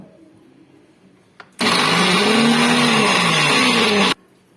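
A kitchen mixer blends egg mayonnaise with oil and salt, starting abruptly with a loud, steady whir that runs about two and a half seconds, then cuts off into quiet room tone.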